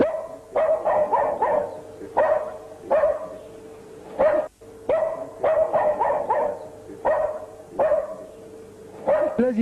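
Several dogs bark over and over in sharp bursts at a Derg-era interrogation prison, loud and close, with brief pauses between volleys and no talk.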